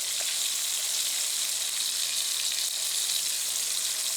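Steady broadband sizzle of gravy cooking in a pan while it is stirred, served alongside pork chops with potatoes and onions, a continuous even hiss with no talking.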